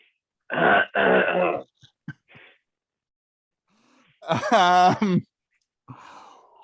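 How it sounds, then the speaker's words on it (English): A person clears their throat with a short rough rasp, then a pause, and a voice follows with a drawn-out vocal sound and brief talk afterward. "I clear my throat."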